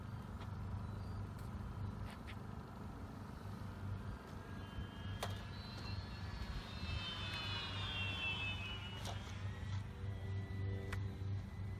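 A fixed-wing aircraft, apparently a model plane at an evening flying event, drones steadily as it sets up for landing, its engine tone sweeping up and down at moderate distance over constant low background rumble.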